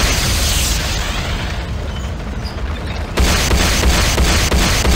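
In the Renegade video game, a GDI power plant explodes in a loud, sustained roaring blast, then a second burst of crackling debris and rumble hits partway through. No voices.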